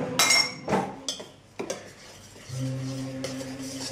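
A knife stirs a pudding mixture in a bowl, giving a few scraping clinks and taps close up, followed by a low steady hum.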